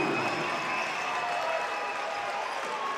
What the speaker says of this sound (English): that has ignited the crowd here in Elmhurst